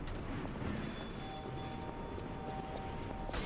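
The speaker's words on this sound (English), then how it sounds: "I don't want you to attack me while this phone's ringing." A telephone rings in the video game Lies of P, a faint, steady bell trill sitting under a dense background hum, with no talk.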